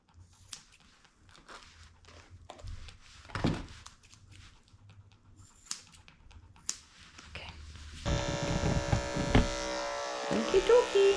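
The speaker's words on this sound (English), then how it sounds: "We're going to shave your face, okay?" Electric clippers buzz steadily and close up across a toy poodle's face, coming in after several seconds of quiet handling noises and rustling.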